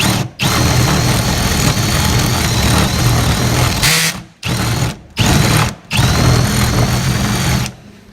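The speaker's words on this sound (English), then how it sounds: "Drill this out a little bit." A power drill whirs loudly in several long bursts drilling out a bolt hole, stopping briefly between runs, with a higher grinding whine as the bit cuts.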